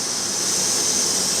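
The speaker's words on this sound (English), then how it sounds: "That's the sound of the fuel burning." A camping stove's fuel burning beneath a pot of water, giving a steady, even roaring hiss throughout, close and fairly loud, with no other sounds.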